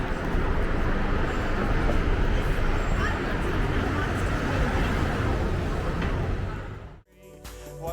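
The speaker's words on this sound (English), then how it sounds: "There's a tram catching up." A tram rolls along a street in Adelaide, a loud, steady rumble with broadband noise that holds for about seven seconds before dropping away abruptly as it passes.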